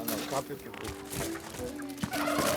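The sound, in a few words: turkey gobbling on a farm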